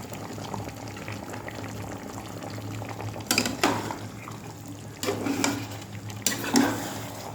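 Water for rice boils in a pot, bubbling and rumbling steadily up close, with a few louder surges of churning liquid and faint clinks of cookware.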